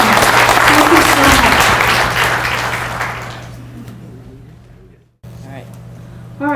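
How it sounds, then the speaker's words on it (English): Loud audience applause at a political forum in Alberton, Montana, a dense burst of clapping that fades over several seconds, with a steady low hum underneath. "a round of applause for Stuart for this round."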